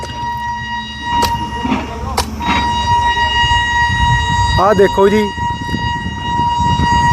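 A train sounds a long, steady horn as it approaches on a rail line just reopened to traffic, the sustained tone holding throughout over rumbling rail noise while someone talks nearby.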